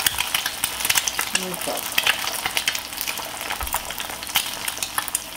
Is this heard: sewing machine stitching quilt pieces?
no